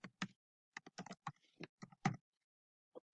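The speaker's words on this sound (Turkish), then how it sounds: "Buraya da belirlemiş olduğum password yazıyorum." A password is typed on a computer keyboard as a quiet, irregular series of close key taps, with short pauses and one last tap after a gap.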